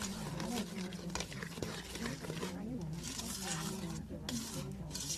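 Rice flour being stirred into a mixture in a pot: a steady, soft scraping and rubbing of a utensil continues throughout under a low hum, with quiet background voices.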